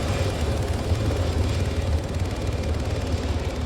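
Helicopter in the ArmA 3 video game heard up close, a loud continuous rotor and engine roar with a throbbing low rumble that holds steady throughout, no voices.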